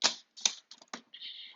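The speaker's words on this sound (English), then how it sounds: "cut this real quick with my paper trimmer" A paper trimmer slicing through card stock for a slimline pop-up card, a few short, crisp scraping strokes close by, ending in a longer sliding swipe of the blade.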